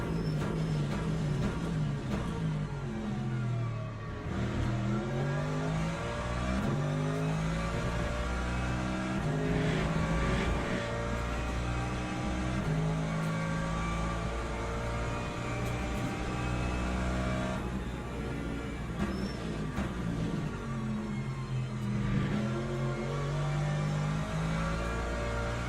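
A hypercar in the Le Mans Ultimate racing game drives past with a loud, sustained engine drone that swells and shifts pitch over about 25 seconds, dense and continuous with no talking.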